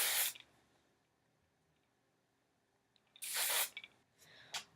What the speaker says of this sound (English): give it a good spray